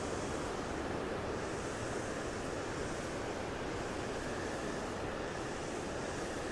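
Ocean waves breaking and surging at Snapper Rocks surf point, a dense continuous wash of surf with gentle swells in intensity, steady and fairly close with wind mixed in, no voices.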